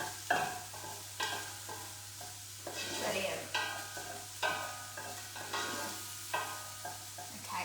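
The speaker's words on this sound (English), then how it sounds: "We just want to soften those onions. Fantastic. So keep stirring that." Onions being stirred and softened in a frying pan for a simple chilli, with a steady close sizzle broken by repeated scraping strokes of the spoon at a regular rhythm.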